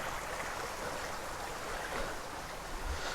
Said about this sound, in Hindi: फिर एक और पानी की धारा हमें मिली है देखने को